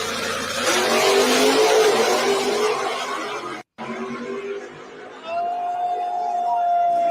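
Drag race cars with 484 engines accelerate hard in a grudge race, a loud roaring engine rush that swells, cuts out briefly, then continues with a rising whine.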